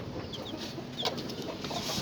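Chickens cluck softly nearby in a farm setting, with short scattered clucks and chirps over a steady background hiss, and no voices.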